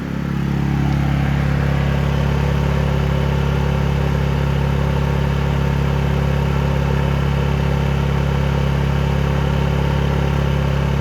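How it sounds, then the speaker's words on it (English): A WEN DF680iX inverter generator runs with no load, giving a loud, steady, even engine drone that holds constant throughout with no talking. "for this particular session while the generator is running"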